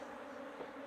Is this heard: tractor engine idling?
no